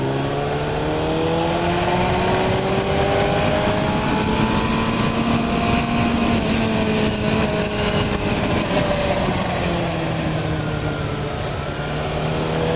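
Motorcycle cruising along mountain Highway 151 in western North Carolina, its engine droning steadily up close with rising and falling pitch as it shifts and accelerates, under continuous wind rush and no talk.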